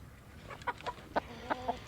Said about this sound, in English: a gaggle of oversized chickens from a secret laboratory up north made their way into the train yard